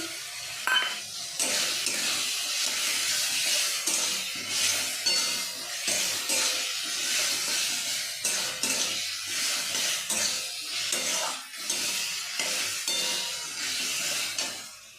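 Ground spices sizzle and fry in a kadai for kadai paneer while a spoon stirs and scrapes the pan in repeated strokes, close and fairly loud, with no talking.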